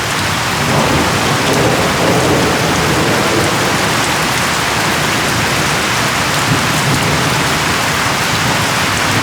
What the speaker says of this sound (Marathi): एवढं पाऊस आहे बापरे